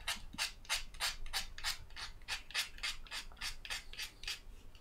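Sandpaper rubs across the wooden surfaces of a handmade hurdy gurdy in about fourteen quick, regular rasping strokes, each a close, bright scratchy swish. No one speaks.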